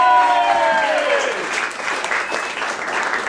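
At a stand-up comedy festival, an audience gives a comedian loud, sustained applause, joined by a crowd's clapping as a tone fades out early on.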